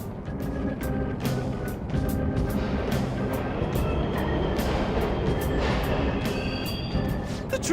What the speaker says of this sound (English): The trains are totally running!